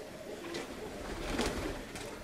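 Performing diving pigeons during a February flying display in Kozani give faint cooing and wing flutters in the distance, over a soft outdoor background.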